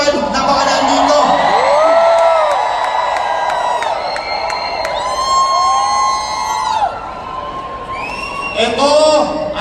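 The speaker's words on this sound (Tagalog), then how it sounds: "sana, naririnig ni Pastor ang hiyawan at sigawan na mga nandito." A large crowd at an outdoor political proclamation rally cheers, whoops and shouts continuously, with whistles rising above the roar and voices calling out over the loud, sustained din.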